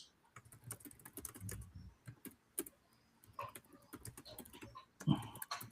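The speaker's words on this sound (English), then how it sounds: "I do type loudly and with purpose." Loud, purposeful typing on a computer keyboard, a steady patter of close keystrokes in bursts with brief pauses, heard alone without talk.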